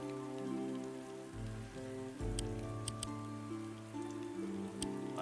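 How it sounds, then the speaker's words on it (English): Steady rain from the weather effect in the video game Wargroove, a continuous patter over layered game music with a few faint clicks, at a constant level for about five seconds with no talking. "The rain."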